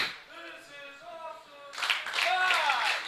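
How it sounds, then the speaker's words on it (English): A wrestling crowd applauding after a heavyweight championship match bursts into loud clapping and cheering in the second half, following a short stretch of voices. "Crowd showing their appreciation for the match."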